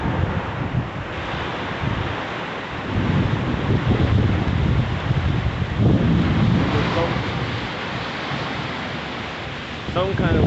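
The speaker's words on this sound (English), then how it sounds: "Wind is being real iffy right now." Strong storm wind roars steadily and close, buffeting the microphone with dense rushing noise that swells and gusts throughout, with no voices.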